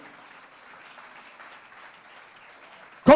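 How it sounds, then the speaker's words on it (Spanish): A church congregation claps softly in a faint, distant wash that stays even for about three seconds before a sudden loud burst cuts in at the end. "Denle un aplauso al Dios eterno."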